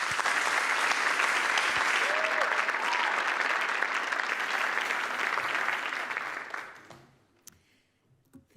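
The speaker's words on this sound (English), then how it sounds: "May I have a warm applause?" A room full of people at a talk gives warm applause, dense steady clapping that fades out around the seventh second, leaving a few scattered claps and quiet room noise.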